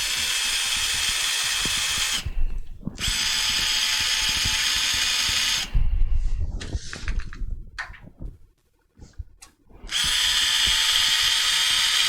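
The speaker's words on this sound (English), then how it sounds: "I have a feeling I need a new drill." An old, worn electric drill whines loudly in long bursts, stopping twice with brief clatter and handling noises in the gaps before spinning up again.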